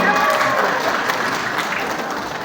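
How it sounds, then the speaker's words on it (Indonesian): An audience at a corporate company gathering claps in a dense, continuous burst of applause that fades slightly toward the end. "Beri aplaus dulu dong untuk leader-leadernya ya."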